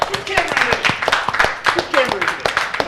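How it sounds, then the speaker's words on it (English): Hands clap in quick, uneven bursts while a person talks over them. "Clap it up."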